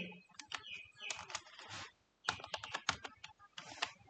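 Text is typed on a computer keyboard during Photoshop poster design, giving quiet, close, rapid key clicks in irregular bursts separated by a short pause.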